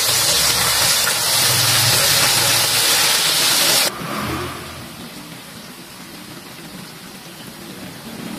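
Chicken pieces for candlenut-spiced fried chicken sizzle loudly in hot oil, a dense, steady hiss that drops to a quieter, softer crackle about halfway through, with no talking.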